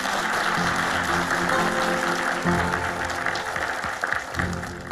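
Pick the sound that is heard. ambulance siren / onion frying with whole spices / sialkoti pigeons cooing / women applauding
women applauding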